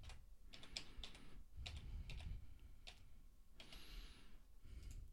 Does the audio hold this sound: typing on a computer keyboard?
yes